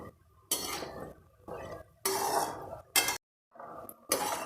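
A spatula scrapes and stirs khurma frying in a pan, coming in several loud bursts of clatter and sizzle separated by short quiet gaps.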